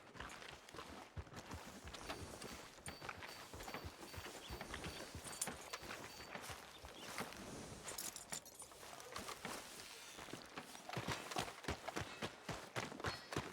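Horse hooves walking on ground in the video game Red Dead Redemption 2, a steady rhythmic clip-clop of repeated close footfalls that grows slightly louder toward the end.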